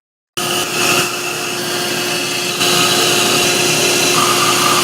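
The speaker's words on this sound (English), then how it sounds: "I just got it over here at the bandsaw, cutting it out." A bandsaw runs loudly and steadily while cutting wooden cabriole table legs, a continuous close motor whine and blade hum that starts abruptly and grows slightly louder as the wood is fed through.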